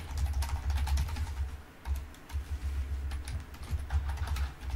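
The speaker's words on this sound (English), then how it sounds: "Little ASMR typing sounds." Rapid clacking of keys on a computer keyboard, close and steady with brief pauses between bursts of typing.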